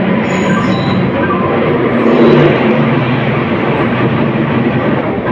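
A train rolls in alongside railway platform 3, its steady broadband rumble and wheel noise loud and continuous throughout, swelling slightly midway with no voices over it.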